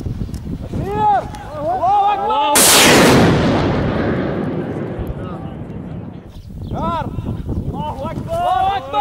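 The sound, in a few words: Grad rockets being launched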